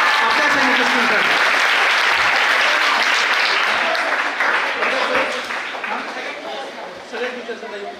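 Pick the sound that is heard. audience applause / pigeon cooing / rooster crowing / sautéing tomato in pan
audience applause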